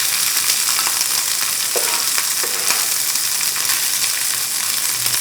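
Garlic and shredded kelp fry in cooking oil with a dense, close, continuous sizzle, broken by a few light stirring taps in the pan.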